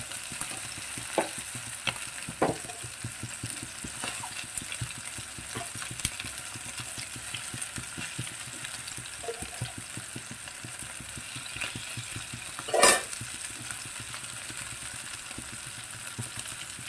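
Chicken shallow frying in a pan for butter garlic chicken, a steady low sizzle and crackle running throughout, with a brief louder spatter burst near the end and no talk.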